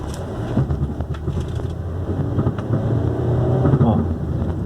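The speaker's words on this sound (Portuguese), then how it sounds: "É tipo uma vibração, conforme a rotação aumenta," A Ford Focus engine runs with a buzzing, tinny rattle from the front of the car that grows louder as the revs climb, heard close up with a person talking over it.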